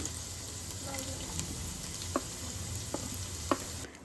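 Chopped carrot, cabbage and capsicum stir-fry in hot oil over a high flame for chicken noodles, a steady close sizzle with occasional scraping clinks of the spatula against the pan.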